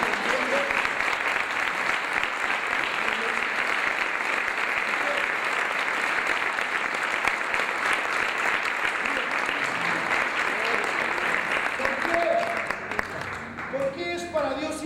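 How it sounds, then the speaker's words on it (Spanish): A church congregation applauds in a long, sustained roar of many hands that stays steady for most of its length, then thins near the end as voices come through. "Denle un fuerte aplauso al Señor"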